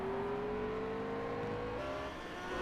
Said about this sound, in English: So funny hearing both engines as the cars power out of the hairpin.